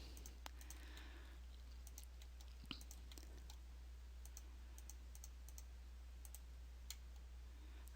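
A computer mouse clicks to turn off layer check marks in software, with faint, sparse clicks spread irregularly over a low steady hum and no talk.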